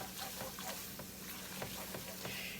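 A butter and flour roux stirred constantly in a pan over lowered heat, with a soft, continuous scraping and patter of the spoon and a faint sizzle underneath, close and fairly quiet.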